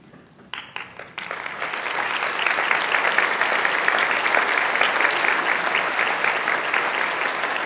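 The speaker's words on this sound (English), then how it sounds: "that's generous of you to applaud them" A large audience at an education summer institute bursts into sustained applause after a few scattered early claps, a dense, steady wash of clapping that stays loud and even throughout.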